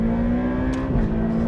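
A Ferrari F8 Tributo's 3.9-liter twin-turbo V8 pulls hard in second gear, a loud, steady engine drone heard from inside the cabin with a slight shift in tone near the end.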